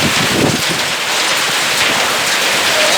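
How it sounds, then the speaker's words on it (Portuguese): Heavy rain mixed with hail pours down in São Paulo, a dense, steady hiss and patter that fills the whole stretch loudly and without pause, with no voices over it. "Tá chovendo. Chovendo granizo, né?"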